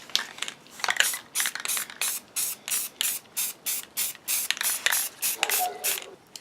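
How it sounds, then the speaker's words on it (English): Aerosol spray adhesive sprayed onto foam feet in repeated short hissing bursts, about a dozen evenly spaced sprays, close and loud with brief gaps between them. "I'm just going to use some spray adhesive on one side and get them into position."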